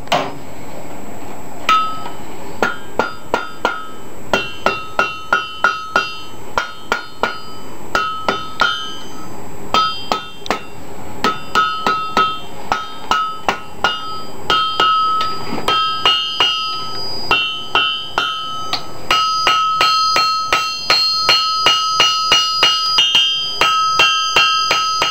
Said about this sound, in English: You have to hammer the pipe bowl one way or another